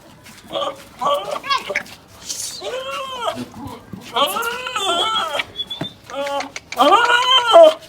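An aggressive Tedi goat on a farm lets out a series of loud, close, wavering bleats, one after another, with short gaps between them and no talk over them.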